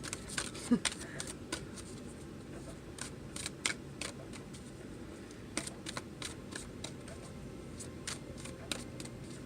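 Tarot cards are shuffled by hand in a quiet room, producing faint, irregular papery riffles and soft slaps scattered throughout, close but low in level.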